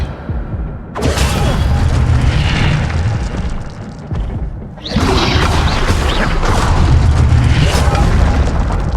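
Two loud booming fire-spell blasts, Incendio in the Hogwarts Legacy video game, burst in one after another, each a sudden roaring whoosh that sustains for several seconds.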